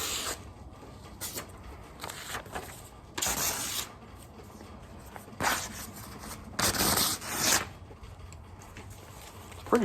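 A custom Rambo First Blood survival knife slicing a standard sheet of printer paper, producing several close, dry rasping swishes of irregular length with short pauses between cuts.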